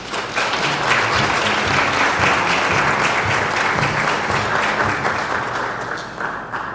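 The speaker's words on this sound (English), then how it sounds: "Give her an applause, please." An audience at a mayor's forum in New Canaan breaks into sustained applause, dense and steady clapping for several seconds with no talking over it, tapering slightly at the close.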